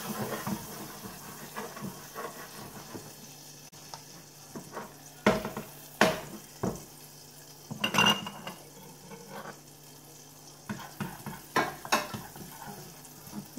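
Onion fries in butter in a pan as it is stirred: a low, steady sizzle broken by clustered spoon scrapes and clinks against the pan, with no talking.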